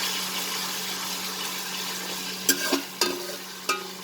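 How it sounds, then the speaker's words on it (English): Onion with ginger-garlic paste sautés over a low flame for potato pulao, a gentle steady sizzle broken near the end by three sharp stirring scrapes against the pan. "We will lower the flame and saute it along with the onion"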